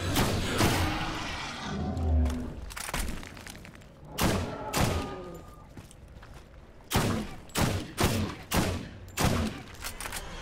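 Gunfire rings out in the video game Borderlands, with bursts of close, punchy shots, a heavy thump early on, and then a quick run of about six evenly spaced shots toward the end.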